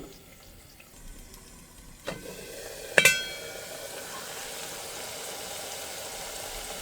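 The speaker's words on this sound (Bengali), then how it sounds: "মশলাটা এখন কষাবো।" Onion, garlic, ginger, cumin and dried chili paste frying in a pot, a soft continuous sizzle with a couple of sharp metallic clanks from a utensil partway through, then the sizzle carries on steadily.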